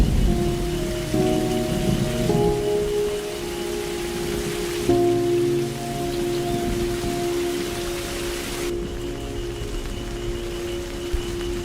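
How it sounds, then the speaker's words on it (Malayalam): Heavy rain pours down in a steady, loud, unbroken hiss, with a faint tonal hum beneath it and no one talking. "നല്ല മഴയാ, കുറഞ്ഞിട്ട് പോ,"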